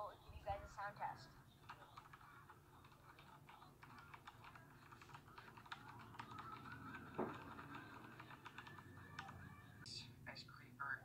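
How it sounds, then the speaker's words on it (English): Close-miked mechanical computer keyboard being typed on, giving quick, irregular clicky keystrokes in bursts, with faint talking in the background. "I'm gonna be giving you guys a sound test of this keyboard."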